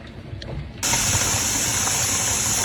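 Steam vents steadily from a pressure canner during potato canning, a faint rumble giving way to a sudden, constant loud hiss that holds evenly to the end.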